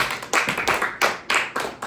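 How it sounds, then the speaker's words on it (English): A group clapping hands together in a room, with several loud, uneven bursts of claps repeating about every half second. "Let's clap for them, guys."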